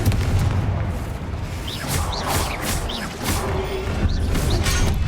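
Confringo blasting spell in the Hogwarts Legacy video game: deep booming explosions with crackling bursts and whooshes in quick succession, loud and close amid the noise of combat.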